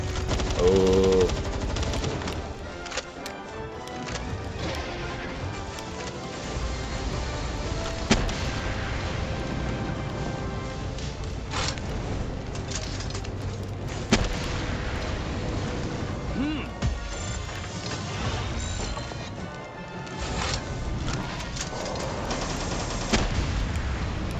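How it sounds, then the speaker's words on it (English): Rocket launcher blasts and other weapon fire from the creature-collecting game Palworld punctuate a busy dungeon fight, with several sharp loud bangs spread across a dense, constant din as a player talks throughout. "I love that you don't take recoil damage from the rocket launcher"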